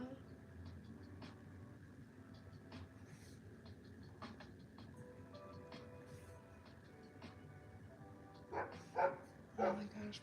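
Several dogs bark in short bursts near the end, loud and close, with a lab mix among them; before that a steady low hum and faint background sounds fill the room without clear barking.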